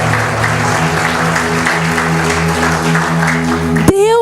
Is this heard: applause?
yes